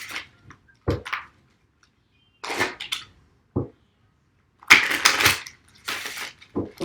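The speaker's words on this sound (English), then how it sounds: "Still want to shuffle a little bit." An oracle card deck is shuffled in several separate bursts of crisp riffling and slapping, each lasting a fraction of a second to a second, with short silent gaps between them, close and fairly loud.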